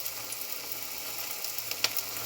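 Corn pakora frying in hot oil gives a steady, close, bright sizzling hiss, with a couple of small pops near the end.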